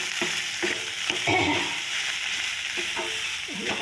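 Eggs and potatoes fry in a pan with a steady, close sizzling hiss, broken by occasional scraping and clinking as a utensil stirs them.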